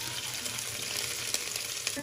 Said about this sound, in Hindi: लहसुन हमारा फ्राई हो गया।